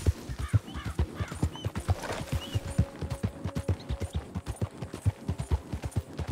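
A horse trots in the Red Dead Online video game, its hooves clip-clopping in a steady, rapid rhythm close by, with a brief whinny and some faint game tones in the background and no talking.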